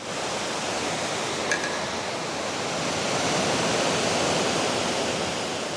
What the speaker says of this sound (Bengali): এই গ্রামেই একটা ওয়াটারফল এখন যাচ্ছি সেই ওয়াটারফল বা ঝর্ণা দেখতে